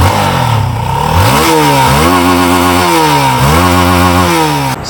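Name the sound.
Z15GT motorcycle engine starting and running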